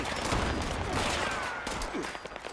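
Grenade explosions in the video game Fallout 76, a dense cluster of booming blasts and crackling bursts, loud and close, fading into scattered pops.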